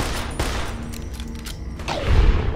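Gunfire cracks in the Fallout: New Vegas video game in a sewer area: a sharp shot, then another heavier report with a low boom, set against quiet ambient game sound.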